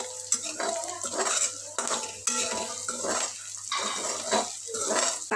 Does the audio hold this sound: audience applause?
no